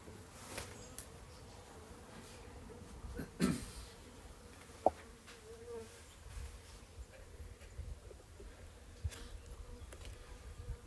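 Honey bees fly around a small mini nuc hive during a winter inspection, a soft continuous buzz with a few brief louder passes and light handling knocks nearby.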